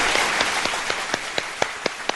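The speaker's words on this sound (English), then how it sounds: "Big round of applause for Ginny Ann." Sparse clapping from a small group, a few distinct claps standing out in a loose, uneven rhythm, fairly close and alone with no talk over it.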